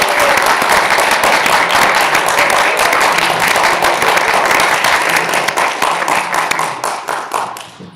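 Loud, dense applause fills a room at student election hustings on a university campus, sustained and even before thinning and fading toward the end.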